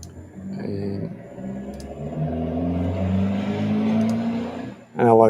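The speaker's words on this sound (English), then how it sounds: "noisy car out there" A loud car passes outside a shed, its engine a steady droning rumble that swells and holds for several seconds before a sharp burst near the end. Faint voices may sit beneath the engine.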